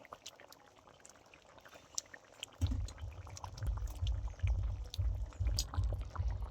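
Fried fish dropped into a boiling fish curry broth, a soft splash followed by steady low bubbling and simmering that continues to the end.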